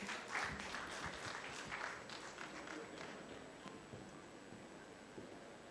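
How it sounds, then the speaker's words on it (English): Audience applause welcoming the Hyperface demo at the Bharat Fintech Summit, moderate steady clapping from a crowd that gradually thins, with some voices underneath. "Let's give them a warm welcome and a huge round of applause."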